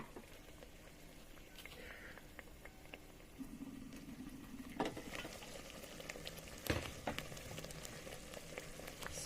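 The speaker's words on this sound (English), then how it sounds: "to allow this to boil nicely" Egusi in vegetable oil boils in a pot in a garden, giving a faint, steady bubbling with a few soft knocks and pops over quiet background.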